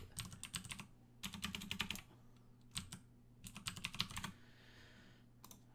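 Close, quiet computer keyboard typing comes in quick bursts of clattering keystrokes separated by short pauses, with no talking.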